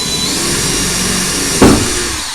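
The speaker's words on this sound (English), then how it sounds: "it's very easy just to take your drill and actually drill through" A steady motorized whir of an electric drill runs throughout, with a brief louder grinding burst near the end as the bit bites into wood.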